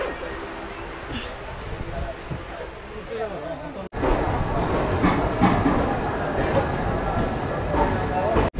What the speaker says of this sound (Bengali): ছেড়ে দিল আমাদের ট্রেনটা আগরতলা স্টেশন থেকে